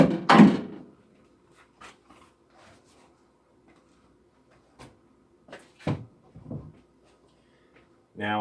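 Custom-made door panel being pried off an Opel GT door, with a sharp clack near the start, a few scattered clicks and knocks of the panel and fasteners, and a short rustle at the end.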